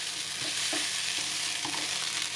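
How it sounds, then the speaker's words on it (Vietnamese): Vegetable filling for vegetarian spring rolls stir-fried in a pan, a steady close sizzle with rhythmic scrapes and taps of the spatula every half second or so. "chỉ xào sơ thôi, chủ yếu là để cho cái nước nó bay hơi lên bớt á"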